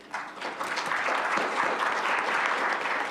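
Audience applause at a Rochester Board of Education business meeting, a short, even burst of clapping from a room full of people that starts abruptly and stays steady for about three seconds.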